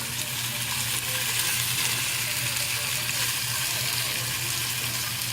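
Chicken thighs sauté in a skillet over low to medium flame, giving a steady, even sizzle that holds without a break, moderately quiet and close, with no voices.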